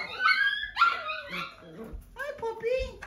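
Small puppy from a litter ready to leave for new homes, whimpering and giving high yips and barks close by, mixed with a person talking softly to it.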